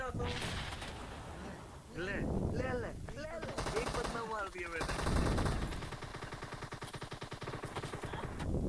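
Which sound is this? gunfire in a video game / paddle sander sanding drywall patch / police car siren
gunfire in a video game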